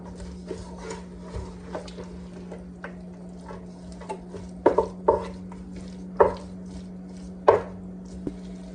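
A spoon works through thick honey garlic sauce in a pan for glass noodles, giving soft scrapes and a few sharper clacks against the metal over a steady low hum, with no talking.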